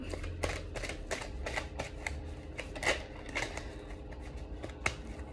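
Oracle cards being shuffled for a reading, giving a run of crisp riffling flutters and soft slaps repeated at a steady pace, close up and fairly quiet.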